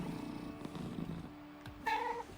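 A small cat meows in the video game Lost Records, a short bright cry near the end, rising over a low murmur of game ambience.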